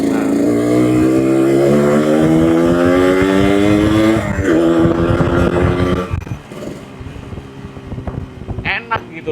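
A Yamaha RX King two-stroke motorcycle engine revs hard and loud nearby, with rising and falling pitch over a sustained run, then drops to a rougher idle with popping.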